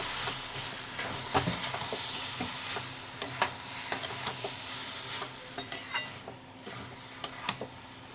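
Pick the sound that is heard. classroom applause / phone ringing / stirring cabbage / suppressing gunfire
stirring cabbage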